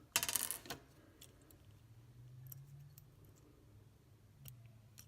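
A metal battery tab on an NES Zelda cartridge is bent and straightened, giving a sharp cluster of close metallic clicks and scrapes at the start, then a few faint ticks over quiet background.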